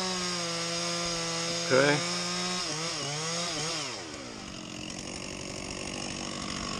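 A chainsaw runs steadily and close while cutting a tree being felled in a tight spot, its engine pitch bending and dropping as it bites into the wood, with a brief spoken word partway through.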